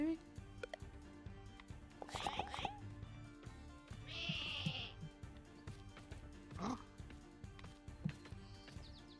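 Sheep bleat several times in the Lumberhill video game, short bleats scattered among other game sounds and clicks, with people talking over them.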